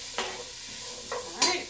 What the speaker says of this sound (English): we are going to add in our carrots, our celery, and our onions